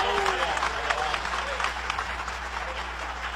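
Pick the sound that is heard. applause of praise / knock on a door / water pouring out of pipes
applause of praise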